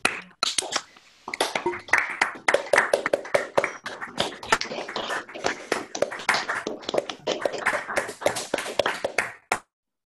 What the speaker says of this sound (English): I'm going to unmute you all, and you can clap all the speakers.